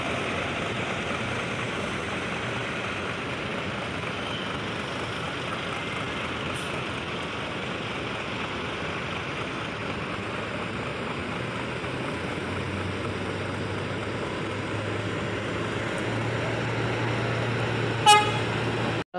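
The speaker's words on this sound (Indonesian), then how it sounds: "Dan kembali berangkatkan bus Pandawa 87 rute Jakarta Yogyakarta." A Pandawa 87 coach on the Jakarta–Yogyakarta route pulls away amid a steady broadband engine and traffic rumble, with a horn tooting toward the end.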